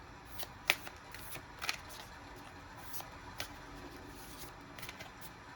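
Close, crisp riffling of Work Your Light Oracle deck cards, shuffled in quick soft bursts with a few sharper snaps, alone with no speech.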